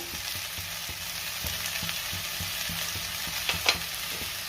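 Okra fries in a pan with a steady close-up sizzle, while a spoon stirs through it in regular scraping strokes, ending with a couple of sharper clinks.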